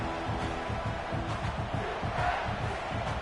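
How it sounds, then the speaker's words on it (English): A home crowd roars at a top-ranked college football matchup, a dense, steady wash of cheering and shouting that holds at full volume throughout. "this home crowd is fired up and ready to make a difference today"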